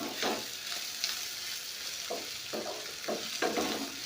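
Snake gourd fry sizzling in a pan while being stirred, with a steady frying hiss and a few short scraping strokes of the spoon against the pan. No one speaks.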